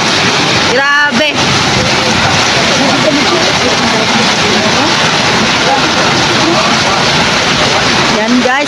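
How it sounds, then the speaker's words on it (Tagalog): Heavy rain pouring down at a market near a barbecue stall, a loud continuous hiss filling the whole stretch, with a brief whistling sound early on and a voice faintly audible beneath. "nabutan po ako ng ulan dito sa palengke sa may barbecuehan"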